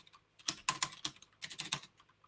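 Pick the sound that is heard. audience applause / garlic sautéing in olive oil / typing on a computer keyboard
typing on a computer keyboard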